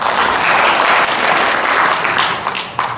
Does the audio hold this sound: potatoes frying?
no